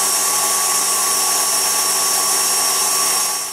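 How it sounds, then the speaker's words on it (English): An electric whisk whips frosting for a red velvet cake, giving a loud, steady motor whine with a constant buzzing drone that runs unbroken and fades slightly at the very end. "I'm just going to whisk it until it becomes harder, like stiffer and fluffier."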